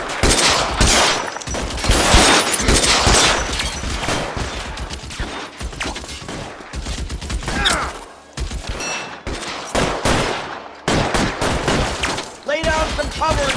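Dense video game gunfire in L.A. Noire during an arson desk shootout: loud, rapid bursts and volleys of shots with some shattering impacts, and voices shouting over the fight.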